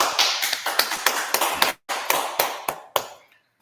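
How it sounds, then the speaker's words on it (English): About a dozen sharp, evenly spaced claps ring out in a steady rhythm from a group on 125th Street in West Harlem. There is a brief gap partway, and the claps stop abruptly at the end. "All right, clap it up,"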